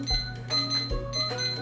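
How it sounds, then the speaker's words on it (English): A kitchen timer is set for a sweet potato and kale salad recipe, giving a run of close, evenly spaced mechanical clicks and ticks with a faint steady hum behind them. "let me set my timer."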